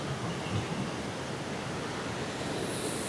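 River water flows downstream toward the Bangladesh border near Mawlynnong, Meghalaya, making a steady broadband rushing hiss with wind mixed in.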